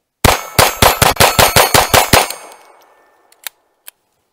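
A Grand Power K22 X-Trim pistol fires Federal Champion 22 LR at a steel plate outdoors, ten sharp cracks in a quick, even string, each with a ringing clang, then fading ring and two faint later taps.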